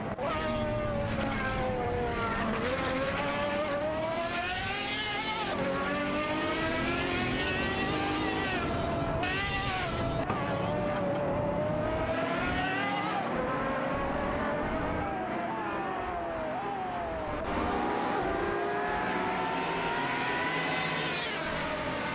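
B Engineering Adonis and Pagani Huayra BC race cars in a video game, engine notes rising and falling through repeated gear shifts, with loud, continuous revving and sweeping pitch changes.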